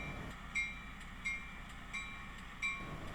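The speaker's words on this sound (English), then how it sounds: "checking out the C&D train, bringing down 4 empty cars for Cavosa disposal" Passing C&D freight train hauling four empty cars near Cape Cod, with steady low rumble of the moving cars and a few regular clicking wheel beats on the rail joints, heard at moderate distance.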